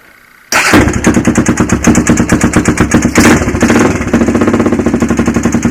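A Honda 400EX ATV engine cold starts abruptly after silence and settles into a loud, close, rapid and even popping idle.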